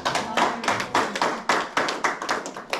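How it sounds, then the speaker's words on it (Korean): Applause at a Jeonbuk–Jeju academic exchange seminar, heard as distinct, close claps from a small group falling in a fairly regular rhythm of roughly two per second. "다시 한번 박수 부탁드립니다."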